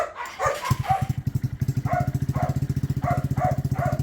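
KP Mini 150 RS EFI motorcycle with the exhaust baffle fitted, idling near and loud with a steady, fast low pulse and a few sharper throttle blips.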